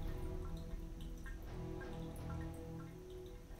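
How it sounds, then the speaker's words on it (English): Rain falls steadily with a dense wash of drips and patter running through the whole stretch, a continuous wet background with no voices. "It's raining and you can hear probably the water in the back."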